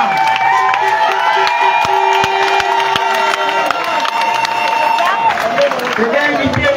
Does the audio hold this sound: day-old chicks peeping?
no